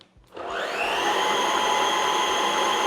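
Dyson Wash G1 wet floor cleaner switched on at its lowest setting over hardwood and tile, spinning up after a brief pause into a steady, loud whine with a constant motor hum and a high tonal edge.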